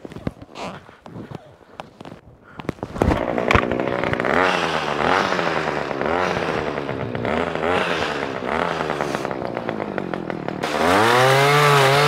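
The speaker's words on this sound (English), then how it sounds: "Time for the chainsaw attachment." A chainsaw attachment cuts through a thick section during work on a Honda CB750F motorcycle restomod, starting with scattered knocks before the motor snarls loudly and continuously, pitch rising and dipping under load.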